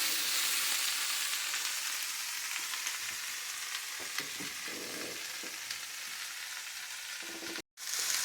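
A breakfast skillet sizzles on the stove with a steady, close frying hiss, a few soft utensil clicks scattered through, then a brief cut of silence near the end.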